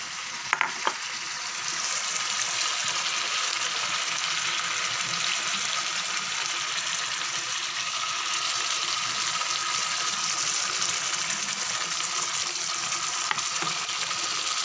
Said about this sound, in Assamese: এতিয়া এই মছলাখিনি যিহেতু খুব মিহিকৈ পিছা হৈছে একদম কম জুইত ইয়াত ভাজিব লাগিব